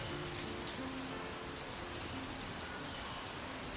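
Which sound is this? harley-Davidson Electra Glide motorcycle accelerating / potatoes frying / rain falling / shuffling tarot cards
rain falling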